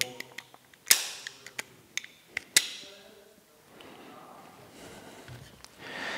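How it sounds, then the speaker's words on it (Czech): Sharp metallic clicks and snaps from reassembling a Walther PDP Compact 4-inch 9 mm pistol, fitting the slide and dry-firing a function check, several crisp close clacks, two louder, followed by soft handling noise. "nasadím závěr, zkontroluju funkčnost, rána jistoty a je to úplně v pohodě"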